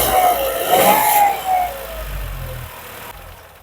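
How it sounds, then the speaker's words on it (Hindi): A Tata Nexon Pure Plus with a 1.2-litre turbo petrol engine running with the bonnet open, a steady mid-pitched hum with a brief rise in revs early on, then settling to a quieter idle. "तो चलिए इसके इंजन की आवाज़ सुनते हैं एंड कैसा है इसका इंजन साउंड।"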